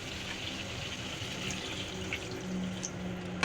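Water poured into a cooking pot of boiled potatoes, a steady splashing rush for a few seconds, close and fairly quiet, ending in a brief clunk.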